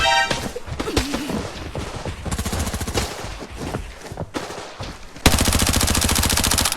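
Gunfire in the shooter game Arena Breakout: a series of sharp shotgun-like blasts and rapid bursts, loud and close, ending in a sustained automatic volley.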